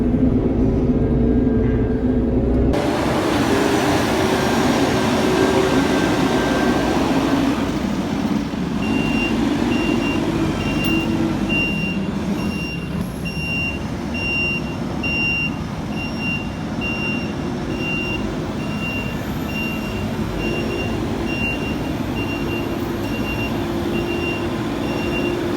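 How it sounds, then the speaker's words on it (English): Forklift in a farm yard lifting parts of a Claas Lexion combine, with steady reversing beeps over a continuous engine rumble from nearby machinery throughout. "we're going to lift that with the forklift off the side where it's bolted on"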